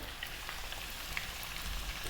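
Chunky lamb pieces seasoned with salt and pepper sear in hot oil, a faint, steady sizzle with scattered tiny pops and no voices.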